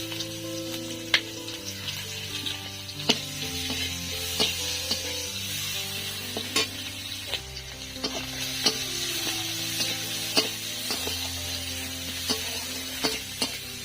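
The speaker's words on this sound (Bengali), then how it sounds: "তেলের মধ্যে আমি গোটা জিরে দিয়ে দিচ্ছি, কোচানো পেঁয়াজ," Whole cumin seeds and sliced onion fry in hot oil for a village-style Bengali fish curry, a steady close sizzle broken by repeated sharp clicks and scrapes of a spatula stirring against the pan.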